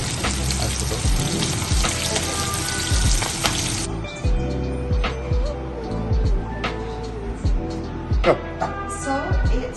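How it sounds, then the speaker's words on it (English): Beef rendang with Malaysian spice, chili powder and lemon juice sizzles and simmers in a pan, a loud bright hiss that drops to softer bubbling with stirring clatter, under intermittent talk. "So it's simmering now in a slow heat"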